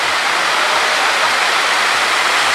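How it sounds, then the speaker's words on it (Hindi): The Sugi Bed waterfall in Kohistan roars loud and close, a continuous, dense rush of falling water with no pauses and no voices over it. "तो ये सुगी बेड वाटरफॉल है, ये आप देख रहे हैं, बहुत खूबसूरत है।"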